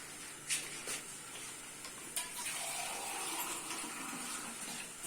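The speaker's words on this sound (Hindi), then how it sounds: "इसमें पानी डाल लेंगे मसाले में" Water poured into a ground spice masala with ginger paste while cooking kofta curry, heard as a soft splashing pour with a few brief gushes against steady kitchen background noise.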